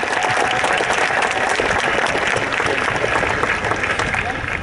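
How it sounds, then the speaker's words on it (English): Dense, steady applause from a graduation ceremony audience at Canyon in 2015, a full roaring wash of many hands clapping at once that holds loud and even throughout. "Can we give her another round of applause?"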